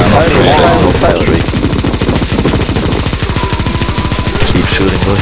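Rapid automatic gunfire from Counter-Strike: Global Offensive in a zombie escape mod boss fight, loud continuous machine-gun bursts dominating throughout with dense rhythmic shots.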